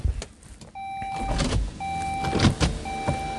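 Car power windows whir steadily as they move, motor tones starting and stopping a few times, close and clear with faint clicks around them.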